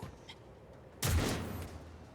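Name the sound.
gunshots in a video game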